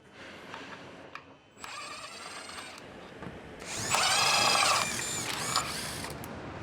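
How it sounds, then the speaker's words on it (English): An electric impact wrench with a 16mm long socket loosens the bushing retaining bolts on a 2001-2005 BMW 325i E46 front control arm, giving short whirring and rattling bursts, the longest near the end, between quieter workshop moments. "Using the large electric impact wrench with the 16mm long socket, remove the bushing retaining bolts."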